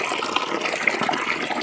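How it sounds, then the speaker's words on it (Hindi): Water poured into a tub of wheat being washed, a brief splashing gush of liquid filling the container, close and fairly loud with no talk. "इसी तरह फिर इसमें पानी भर लेते हैं।"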